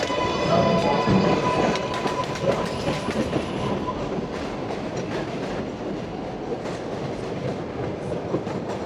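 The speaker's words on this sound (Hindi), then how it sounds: "हर मिनट में ट्रेन आती है और इतना शोर डालती है" Elevated train in Jackson Heights, Queens rumbling and clattering past overhead, loud rhythmic clickety-clack with brief wheel squeal early on, fading slightly as it continues along the street.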